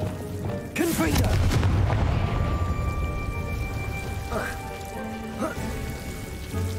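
A Confringo blasting spell goes off in Hogwarts Legacy, a loud booming burst near the start followed by a lingering crackling, rain-like rumble, with faint sparkly tones and a few brief thuds later on.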